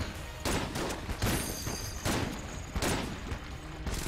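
Rapid bursts of gunfire and bullets in the video game Enter the Gungeon, loud repeated volleys coming in waves every half second or so over a continuous clattering game mix, without any voices.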